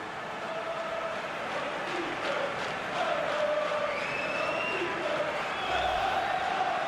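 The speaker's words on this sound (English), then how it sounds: "The crowd have gone crazy, and quite rightly so" Stadium crowd in FIFA 19, a Champions League semifinal between SL Benfica and Manchester City, roaring steadily after a goal, a broad continuous wash of cheering with shouts rising through it and no commentary over it.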